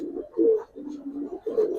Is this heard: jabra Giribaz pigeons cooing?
yes